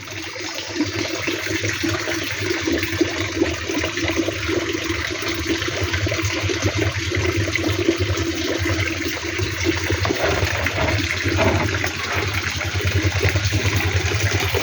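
Water flows steadily out of a fish pond outlet where nine-day-old shingi fish fry are raised, a continuous close rushing and gurgling that holds an even level throughout with no voices.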